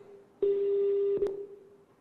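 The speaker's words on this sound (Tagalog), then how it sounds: "Eto ngayon, tinatawagan kita, ayaw mo naman sagutin." An outgoing phone call rings unanswered, a single steady electronic ring tone held for about a second and then cut off by a brief click, fairly loud and alone.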